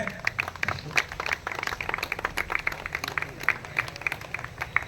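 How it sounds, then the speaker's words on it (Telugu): An audience at a coin-anniversary celebration meeting claps for a bouquet presentation, producing fairly soft, scattered applause throughout, with many overlapping hand claps and no single clear voice on top. "గట్టిగా చప్పట్లు కొట్టాలండి."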